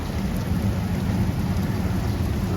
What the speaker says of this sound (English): joyful heavy rain